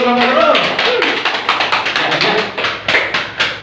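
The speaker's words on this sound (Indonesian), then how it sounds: "ada kasih tepuk tangan untuk kelompok 2" Group applause for a class discussion group, a brief burst of clapping from a small room of participants with overlapping claps and voices mixed in.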